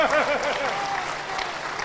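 An audience claps at a Hindi kavi sammelan poetry recital, a dense wash of applause from a crowd that carries on steadily, with a voice talking over it at the start.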